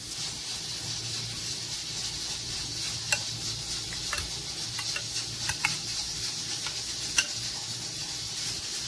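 Cumin crushed by hand and yogurt being mixed into a pot of beef pulao, heard as a steady soft sizzle with scattered light scraping and clicking stirs, no voices.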